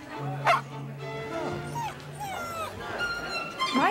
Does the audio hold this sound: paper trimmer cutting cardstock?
no